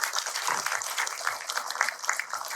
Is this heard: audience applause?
yes